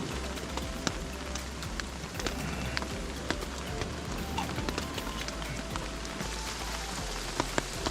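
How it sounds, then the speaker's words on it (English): Heavy rain pours down steadily on a beach in about 5 degree cold, a dense unbroken hiss of drops hitting surfaces close by. "It's raining so much"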